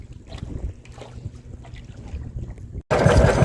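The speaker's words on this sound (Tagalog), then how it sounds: "At may malaking bangka." Low engine drone and water sloshing of a large fishing boat returning from open sea, with wind buffeting, ending in a sudden burst of loud, rushing noise.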